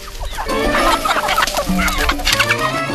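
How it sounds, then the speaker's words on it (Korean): Two chickens cluck and squawk close by in a rapid, busy jumble of calls that continues throughout. "포위망에 진입하는 닭 두 마리"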